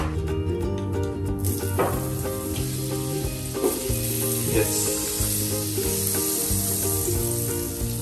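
Chicken leg pieces sizzle in olive oil and butter in a pan, a loud, steady frying hiss with occasional clinks of stirring, no talk over it.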